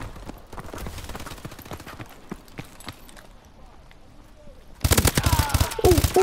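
Automatic gunfire in the video game Call of Duty: Advanced Warfare, bursts of rapid shots throughout that grow louder and denser near the end, with a voice talking underneath.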